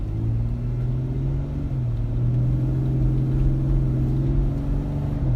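A Jeep JK fitted with a Ripp cold air intake drones steadily nearby, a low throaty engine note that rises slightly in pitch as the throttle opens.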